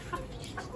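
A hen in a caged poultry enclosure gives a couple of soft, brief clucks, faint and close against a low background hum.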